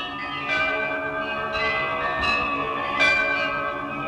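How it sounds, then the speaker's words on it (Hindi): Temple bells ring steadily and loudly with a sustained metallic shimmer, fresh strikes landing every half second or so over the lingering resonance, with no voices. "वो घंटियां पुकारने लगी"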